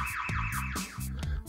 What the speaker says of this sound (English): the alarmed lock includes a piercing 110 decibel siren alarm